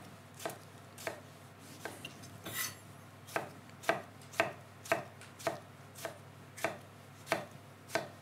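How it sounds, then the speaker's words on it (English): A knife slices through plum tomatoes on a chopping board, a steady series of sharp close taps in an even rhythm, with no voices over it. "I've got some plum tomatoes, which I'm just gonna slice into four lengthways. And then again, slice them finely."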